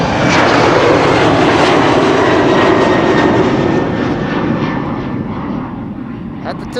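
A jet airliner departs Amsterdam Schiphol Airport with a loud, broad engine roar that holds steady, then slowly fades as the aircraft climbs away.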